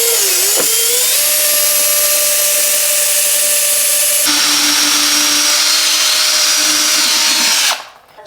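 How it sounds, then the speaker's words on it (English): A combi drill bores a 10mm hole straight into the blockwork behind a dot-and-dab plasterboard wall, giving a loud, steady, close whine that holds for several seconds, shifts pitch partway through, then cuts out near the end. "So let's drill the first of our holes using the combi drill."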